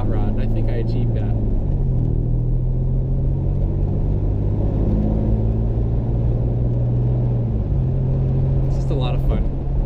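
A modified Hudson Hornet engine idles and revs in a deep, continuous rumble with shifting pitch, loud and close, while someone talks over it.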